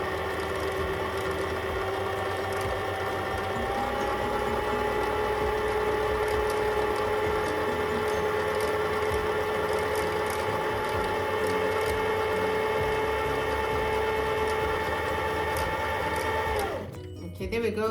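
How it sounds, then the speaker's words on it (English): A sewing machine winds a bobbin in a steady, continuous mechanical whir with a faint rising hum, running close and evenly for about sixteen seconds before cutting off abruptly. "Basically, quickly just winding our bobbin."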